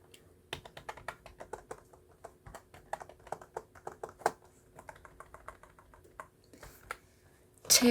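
Rapid typing on a computer keyboard while filling an Excel spreadsheet, a dense run of close, crisp key clicks with brief pauses, ending in a louder clack.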